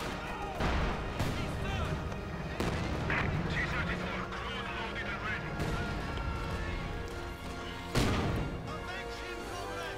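Grenades burst in a Company of Heroes 2 2v2 match, Soviet forces against OKW with T-34s and Panthers, amid a steady din of gunfire and sharp blasts near 0.7, 2.6, 5.6 and 8 seconds, under continuous commentary.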